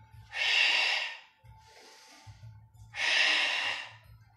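Breathing during a Pilates exercise: two strong, airy exhalations and a softer one between them, close and loud, with faint low thumps underneath.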